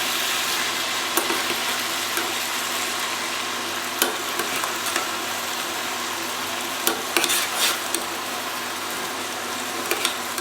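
Pepper paste is stirred into a sizzling mixture in a pan, giving a constant bright frying hiss with scattered scraping clicks of the spoon, close and alone.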